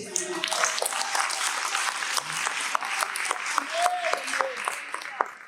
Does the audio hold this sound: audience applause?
yes